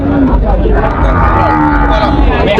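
Cattle at a Thai livestock market moo loudly and close by in long, drawn-out calls, with a crowd murmuring and people talking in the background.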